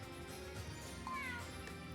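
A single short, faint cat meow from the video game GrimGrimoire rises briefly over quiet background game sound.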